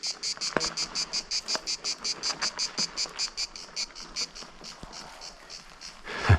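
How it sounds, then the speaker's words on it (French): Cicadas chirr outdoors on a mountain-bike trail in rhythmic, evenly spaced pulses, a steady, fairly close chorus with no voices over it. "c'est une des rares chaînes de VTT où on entend les cigales"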